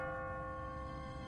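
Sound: automatic church bell ringing in The Walking Dead video game

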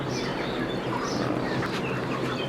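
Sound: chicken

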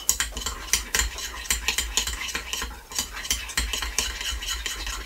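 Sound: stirring a dough mixture in a bowl

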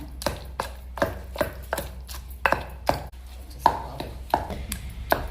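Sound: pounding green chillies and tomato for chutney

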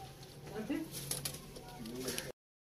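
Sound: pigeons cooing in a loft

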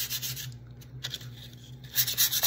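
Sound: fine sandpaper rubbing over stenciled wood

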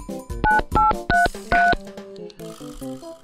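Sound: telephone number being dialed, dialing tones, toy phone

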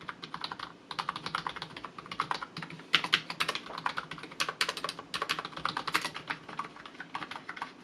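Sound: typing on a membrane gaming keyboard

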